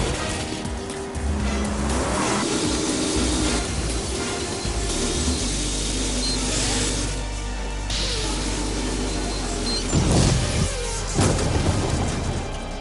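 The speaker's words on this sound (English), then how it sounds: "Bond and his nemesis Zhao battled it out in a slick car chase" Cars racing in an ice car chase from the 2002 Bond film Die Another Day, a dense roar of engines and rumble with swelling passes and a couple of louder bursts near the end, sustained throughout.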